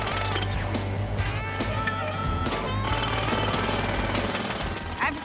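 A jackhammer pounds steadily on asphalt while a pothole is dug out, a loud continuous rapid hammering that runs unbroken through the whole stretch with a heavy low rumble beneath it.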